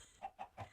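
Minecraft chicken clucks in a video game, three short soft clucks in quick succession.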